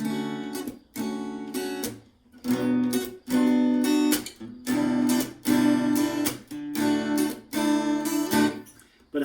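Acoustic guitar strummed in rhythmic chord strokes, full and close, with steady repeated downstrokes and brief pauses between chord changes.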